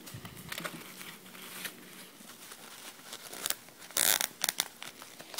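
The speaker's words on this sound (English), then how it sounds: "if you hear the clicking sound, that's how you know you're using the zip tie the right way" A plastic zip tie is pulled tight while making a big cheer bow, giving a brief burst of rapid ratcheting clicks near the end after soft crinkling and handling noises, close up with no speech.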